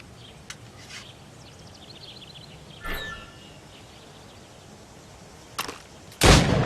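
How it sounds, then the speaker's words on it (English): Gunshots fired at targets during Assassin's Creed Rogue target practice: four sharp, widely spaced cracks, the last the loudest and longest, with faint bird chirps in the background. "Go on. Shoot these targets."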